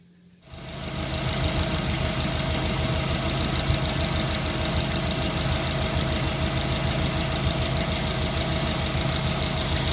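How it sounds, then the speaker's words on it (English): A Subaru engine with a 4EAT automatic transmission starts and then idles steadily with a low, rhythmic knocking rumble, close and loud, continuing unchanged to the end. "Then you want to start the engine"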